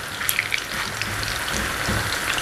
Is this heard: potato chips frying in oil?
yes